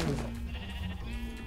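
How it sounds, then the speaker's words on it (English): A sheep in the video game Minecraft bleats once, close and clear, with a low hum of game sound underneath. "It's a sheep."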